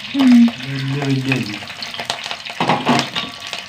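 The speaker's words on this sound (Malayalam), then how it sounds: "ആദ്യം എണ്ണയ്ക്ക് കറിവേപ്പില കറിവേപ്പില ഒരു കഷ്ണം ഇഞ്ചി നാലല്ലി വെളുത്തുള്ളി" Curry leaves, ginger and garlic frying in hot oil, a sizzle and crackle with stirring scrapes; a voice talks over the start.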